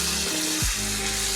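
Turmeric, chili, cumin and shrimp frying in hot oil for a Bengali chingri macher jhol, a steady close sizzle with a brief clatter of stirring partway through.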